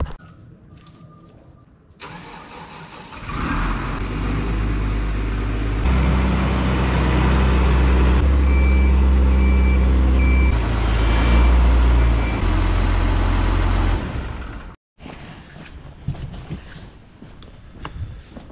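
A telehandler reversing on a farm runs loud and close, its engine rumbling steadily for about ten seconds with a faint, regular series of reversing beeps over it before the noise cuts off abruptly.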